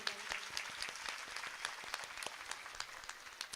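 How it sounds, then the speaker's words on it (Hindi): Audience applause rolls through the Bhagwat Katha gathering, a dense, steady patter of many hands clapping together, moderately loud and sustained without a break. "उनके लिए भी ताली बजाइए"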